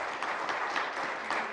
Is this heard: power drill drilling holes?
no